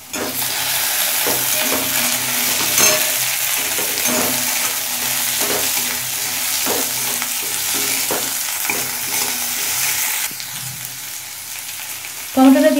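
Tomato added to browned onion and cumin frying in a pan for an ol chingrir dalna, a continuous close sizzle with rhythmic spatula stirring, a brief drop in level near the end, then a louder burst.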